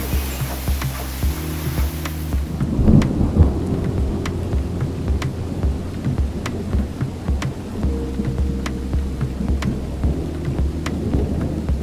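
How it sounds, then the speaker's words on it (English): Rain falls steadily on a rainy evening with rolls of thunder, continuous patter of drops on surfaces heard close, alone without any talking. "A nice rainy evening to make chapati."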